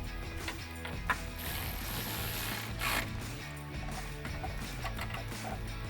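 A ratchet wrench tightens a nut on a bracket stud while installing an inline control module on a 2019-2022 Silverado or Sierra 1500, a close, steady run of fast mechanical clicks over several seconds.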